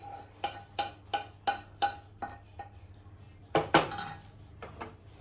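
Dry-roasted fenugreek, cumin and other spices for flaxseed powder are scraped from a pan onto a plate with a spoon. About seven sharp, rhythmic metallic clinks ring out, then comes a louder clattering scrape and a few lighter taps.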